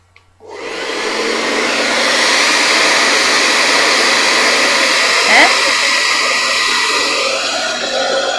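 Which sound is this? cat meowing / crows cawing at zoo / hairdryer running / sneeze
hairdryer running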